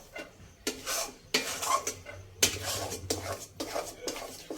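Chana dal halwa is stirred continuously in a pan, a spoon scraping and knocking against the metal in repeated close strokes with brief pauses between them, fairly quiet overall.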